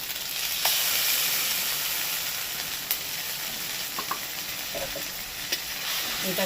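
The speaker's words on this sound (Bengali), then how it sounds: "পেঁয়াজটা দিয়ে একটুখানি ভেজে নিয়েছি" Onion paste frying with garlic and ginger in a pan for rohu fish kalia, a steady close sizzle throughout with occasional spoon taps and scrapes against the pan.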